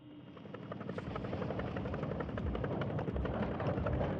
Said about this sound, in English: Diesel engine. Oh, okay, that's what it is.